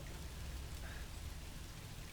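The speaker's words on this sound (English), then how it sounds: "Damn, look at this rain." Steady, dense rain from the horror video game Song of Horror, falling as a constant even wash of drops on surfaces, moderately loud and continuous throughout with no talk.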